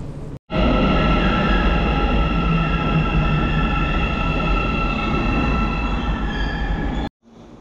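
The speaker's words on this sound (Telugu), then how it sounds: "ఇది మెట్రో స్టేషన్, ఎక్కడికి వస్తుంది ట్రైన్." A metro train arrives at a station in Kazakhstan, with a loud, steady rumble and humming tones that start abruptly, hold for about six seconds with faint wheel squeal, then cut off.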